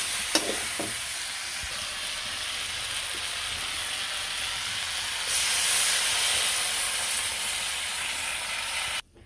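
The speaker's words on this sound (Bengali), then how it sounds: "জল দিয়ে দেবো" Steady hiss and sizzle of a village vegetable curry with potato, eggplant and drumsticks frying in a pan, rising louder as water is poured in, with a few faint clinks and no talking.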